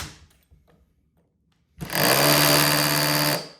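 A cheap cordless SDS hammer drill bites into concrete after a quiet pause, bursting into a loud, steady hammering roar up close for about a second and a half before cutting off.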